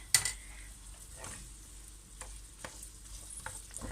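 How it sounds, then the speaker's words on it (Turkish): Tomato and pepper paste sautéing in a pan gives a soft, steady sizzle, with a few scraping stirs and light clinks scattered through it. No one speaks. "şöyle iyice salçayı da kavuralım"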